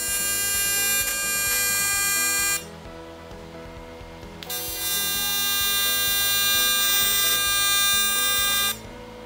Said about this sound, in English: The joint is tack welded in several places.